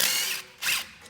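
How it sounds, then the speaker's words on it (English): Two quick ratchet clicking bursts, close and crisp, while loosening brake caliper bolts on a Honda CR-V. "First thing we're gonna do is we're gonna get the caliper bolts off."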